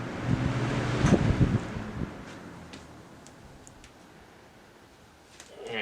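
A 1998 Lasko Model 3700 Ultra Force 20-inch box fan winding down after being switched off, with an uneven rattling clatter that is loudest early and gradually fades into a quieter whirring.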